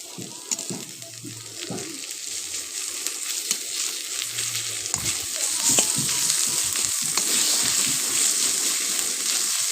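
Onion fries in a pan with ginger-garlic paste added, a steady close sizzle with scattered stirring scrapes and clicks that grows slightly louder toward the end.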